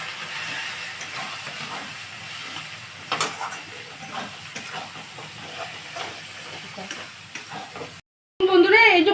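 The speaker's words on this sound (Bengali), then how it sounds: "এবারে আমি মশলাটা কষবো" Spice paste seasoned with red chili powder fries in a pan with a steady hiss and sizzle, and a spoon scrapes and stirs now and then. It cuts out briefly near the end before the noise comes back.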